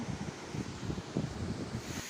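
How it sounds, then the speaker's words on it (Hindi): Water boils in a cooking pot for chicken biryani, giving a faint, steady roiling bubble and hiss with soft irregular pulses, heard alone with no voices. "पानी हमारा बॉईल हो गया है।"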